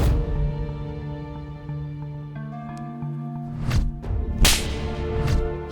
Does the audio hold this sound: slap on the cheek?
yes